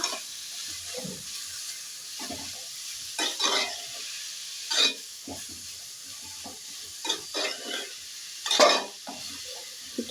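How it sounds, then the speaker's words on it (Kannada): Bottle gourd halwa being stirred in a pan, with intermittent scraping strokes and soft sizzling in an otherwise quiet kitchen, no talking. "ಇದನ್ನು ಚೆನ್ನಾಗಿ ಮಿಕ್ಸ್ ಮಾಡ್ಕೊಳ್ಳೋಣ"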